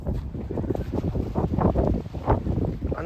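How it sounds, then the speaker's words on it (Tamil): Strong wind buffets the microphone outdoors where families have stopped their cars along a roadside. It comes as a loud, rumbling, gusty roar that surges and dips in irregular bursts. "ரொம்ப காற்றடிக்குதுங்க"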